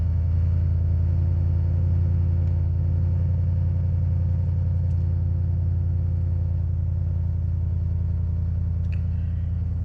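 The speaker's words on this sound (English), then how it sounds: "there's a muscle car outside making lots of noise" A muscle car engine rumbles outside with a deep, steady drone that holds at a constant level throughout, a little muffled, as if heard from indoors.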